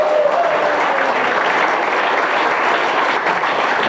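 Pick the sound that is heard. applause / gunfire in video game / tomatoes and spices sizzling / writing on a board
applause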